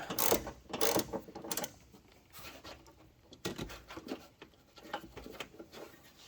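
Hand ratchet loosening a bolt on a 1994 Chevrolet C1500 Silverado pickup, giving bursts of rapid, close clicking from the pawl, separated by short pauses and quieter handling noise.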